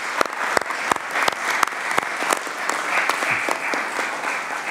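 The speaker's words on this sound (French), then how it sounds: "je me permets d'applaudir les nouveaux promus" A council chamber audience claps for newly promoted members of a departmental council session, a moderate burst of applause with sharp individual claps standing out, steady for several seconds without talk.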